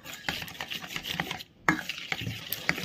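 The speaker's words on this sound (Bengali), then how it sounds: "ভালো করে নেড়ে নিচ্ছি।" Cabbage paste mixed with flour being stirred in a bowl, soft rhythmic scraping and rubbing strokes close by with a brief pause midway.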